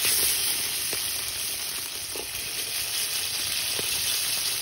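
Breakfast food bubbles and sizzles in a skillet over a backyard campfire, a steady close frying hiss with faint pops and no talking.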